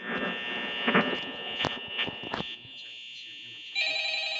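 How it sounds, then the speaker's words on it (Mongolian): An electronic phone ring tone in the video game Five Nights at Freddy's sounds steadily, with a few sharp clicks early on and a shift to a higher ringing pattern near the end. "За, утас дуурдгаараа дуурч байна."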